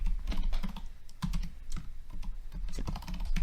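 Steady close-up typing on a computer keyboard, a quick run of uneven clicking keystrokes with a few heavier thumps, as when a password is entered, with no talking.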